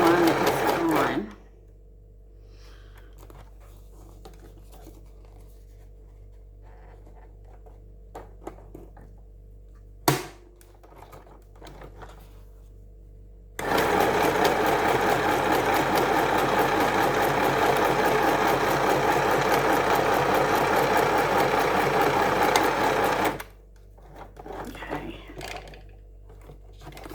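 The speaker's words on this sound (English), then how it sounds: "I'll just do one row of stitching." A sewing machine stitches a single row across a paper journal card made from an altered invoice. A long, loud, steady whir runs for about ten seconds, framed by quieter handling sounds and a sharp click before it starts.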